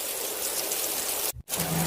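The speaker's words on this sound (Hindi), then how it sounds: "इतनी भी तेज बारिश नहीं, कि हम काम से छुट्टी ही कर लें" Heavy rain pours steadily as a dense, continuous hiss close by, with a brief dropout near the end before the downpour resumes.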